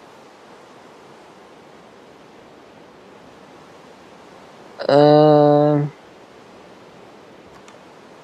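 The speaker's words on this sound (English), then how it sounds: "Is it raining? Looks like yeah. it's raining." Heavy rain in the Minecraft video game, a steady broadband hiss that lasts the whole stretch, broken by a brief loud hum from a voice partway through.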